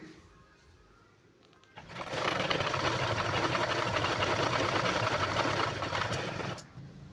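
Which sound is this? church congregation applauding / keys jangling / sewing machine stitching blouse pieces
sewing machine stitching blouse pieces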